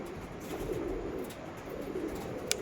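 A pair of Lal Shira pigeons, a Mangalagiri and Andhra Lalsira pair in a loft, coo with low murmuring tones under a steady hiss of room noise, and a sharp click comes near the end.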